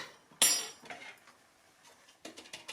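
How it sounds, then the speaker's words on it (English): A metal baking tin dusted with flour shaken for tart making, a sharp rattle followed by several lighter clattering knocks, close up and without speech. "So you want just a sprinkle of flour all over the tin, and then we give it a bit of a shake."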